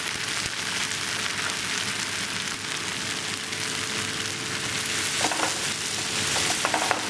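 Chopped tomatoes and garlic being stirred in a hot pan give a steady, close sizzle with a soft scraping churn running evenly throughout, and nobody speaks.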